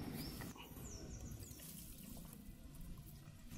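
Water poured onto potted plants, a soft continuous splashing trickle, faint and close, with no voices.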